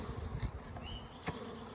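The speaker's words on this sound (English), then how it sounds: "Bees everywhere." Freshly unboxed bees dumped into a hive buzz steadily and nearby, a constant insect drone with a few louder thumps and passes.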